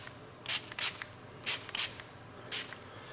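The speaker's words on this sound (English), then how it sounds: "So the 12-hour mark, we're gonna go ahead and spray it again." Five short, sharp hissing bursts of lubricant sprayed from an aerosol onto a Glock pistol, loud and close, arriving in uneven pairs with quiet gaps between.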